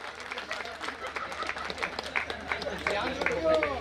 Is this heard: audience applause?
yes